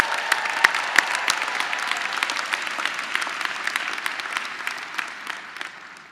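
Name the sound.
graduation ceremony audience applause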